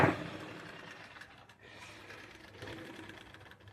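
Domestic sewing machine running steadily at a slow, gentle pedal pressure, a continuous close mechanical whir with a slight dip midway before resuming.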